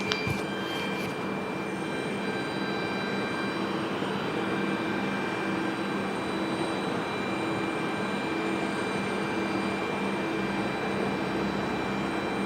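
Steady jet roar of an Alaska Airlines airliner at Portland's PDX airport, a loud continuous engine rush with whining tones holding through the whole stretch, with no voices over it.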